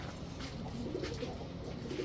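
A silver male pigeon coos softly, a few low murmuring calls close by over a faint background hum.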